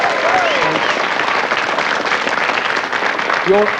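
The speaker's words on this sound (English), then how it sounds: "let's give him another round of applause" A studio audience applauds a Blockbusters game show winner in 1983, with sustained, loud clapping and brief musical or vocal tones rising over the crowd near the start and end.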